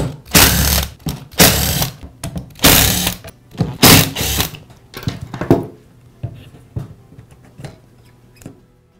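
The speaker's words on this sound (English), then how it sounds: "We'll begin by removing the side cover at the rear of the grinder. It's secured with 5 screws." Screws being backed out of the rear side cover of a DeWALT angle grinder, giving a run of close, loud mechanical ratcheting bursts that become shorter and quieter clicks toward the end.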